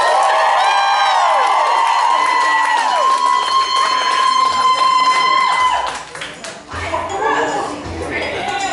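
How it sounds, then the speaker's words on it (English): Crowd at a circus performance cheers and claps as pre-show acrobats come on stage, with whistles and ringing tones over the noise, then the cheering fades into scattered voices and talk. "Let's give them a round of applause"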